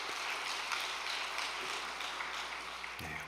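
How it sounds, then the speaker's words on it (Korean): A church congregation applauds in congratulation at a retreat awards moment, a steady wash of many hands clapping throughout at moderate distance, with no speech over it. "축하의 박수 부탁드리겠습니다."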